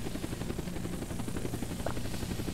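A helicopter in the video game Unturned drones with a continuous rhythmic rotor chop, close and steady throughout.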